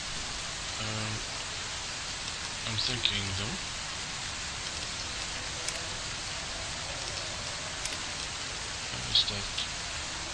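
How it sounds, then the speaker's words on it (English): Rain falls steadily in Fallout: New Vegas, a constant hiss of raindrops with a few sharper patters, while a voice speaks briefly under it. "Oh, it's raining again."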